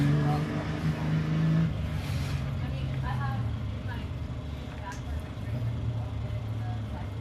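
A 1600-class off-road race car at the Wild West 100 desert race comes through, its engine a steady loud drone with rising and falling pitch, while a commentator talks over it.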